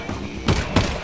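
Gunshots from the video game Half-Life come as three loud, punchy blasts spaced roughly a third of a second apart over a steady, noisy game background.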